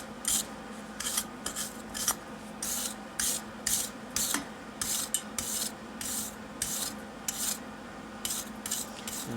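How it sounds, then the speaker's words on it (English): A stainless steel wire brush scrubs soot off a Honda CR250 engine case in quick, rhythmic, harsh rasping strokes, close and fairly loud, with short pauses between bursts. "I'm trying to stay away from the steel here, because I don't want to contaminate my stainless steel wire brush."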